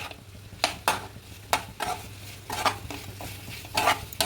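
Mutton chukka being stirred with ground pepper and cumin in a pan: repeated scraping strokes of a spoon against metal, each a short rasping burst, over a quieter background sizzle, close by with no talking.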